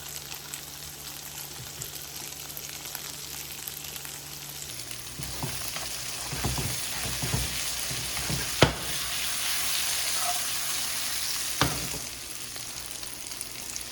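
Sweet potato gnocchi with scallion frying in a pan, with a steady close sizzle and a few sharp stirring scrapes and clinks partway through.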